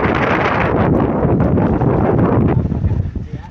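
Strong wind roars and buffets against the microphone in loud, dense gusts that ease slightly toward the end.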